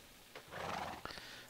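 A horse in the Life in the Woods Renaissance video game lets out one quiet whinny lasting about half a second, followed by a brief snort, with no talking over it.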